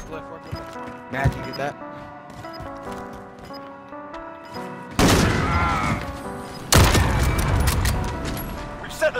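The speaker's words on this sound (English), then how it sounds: "Enemy precision airstrike inbound." Precision airstrike in Modern Warfare: two heavy, sudden explosion blasts land one after another, each a loud booming burst with lingering rumble, preceded by quieter game sounds and music.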